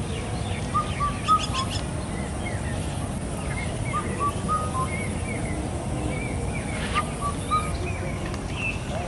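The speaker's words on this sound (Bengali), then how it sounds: "এই পাখির নাম জলপিপি পাখি।" A pheasant-tailed jacana calls in a quiet wetland, giving scattered faint whistled notes and short chirps over a steady hiss of background noise.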